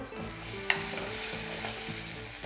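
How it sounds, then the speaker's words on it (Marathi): Onion and tomato fry in a pan for a prawn masala, giving a soft, even sizzle close by with one brief tap of a stirring utensil. "कांदा आणि टोमॅटो आपण मऊ करून घेऊया"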